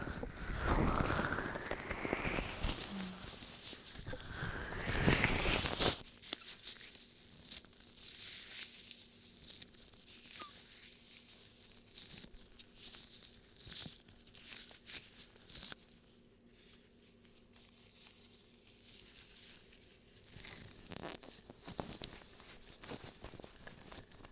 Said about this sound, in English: This is called ear cupping.